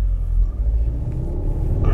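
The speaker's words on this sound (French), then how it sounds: "on commence à appuyer, le turbo qui charge" A 2021 Audi S3 with a turbocharged engine and quattro drive accelerates on a winding country road. A deep, steady engine rumble is heard close up from inside the car, loud and unbroken, with no talking.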